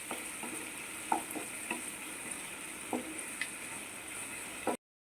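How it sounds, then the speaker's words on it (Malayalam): Chicken pieces sizzling and frying in oil in a home kitchen pan for chicken pasta, a steady hiss throughout with occasional scraping clicks of stirring, close and moderately loud, then it cuts off abruptly. "അത് നല്ലോണം വേകുന്നിടം വരെ നമ്മളിങ്ങനെ ആ എണ്ണയിലിട്ട് ഇളക്കിക്കൊണ്ടിരിക്കണേ"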